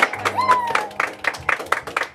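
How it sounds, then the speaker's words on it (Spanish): A small group claps for Amparo at a mariachi birthday serenade, quick uneven handclaps repeating in a rough rhythm, with a voice and a brief tonal sound over the start. "aplauso para Amparo"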